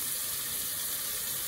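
Tomato and salt sautéing in a pan for a Chettinad brinjal aviyal, a steady bright hiss and sizzle that holds level and close throughout with no voices over it.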